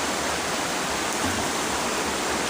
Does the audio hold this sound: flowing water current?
yes